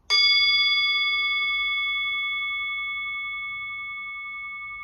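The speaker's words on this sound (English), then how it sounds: "let's see how the hand-beaten bowl sounds" A hand-beaten singing bowl is struck once and rings loud and clear, its pure layered tones sustaining and slowly decaying over several seconds.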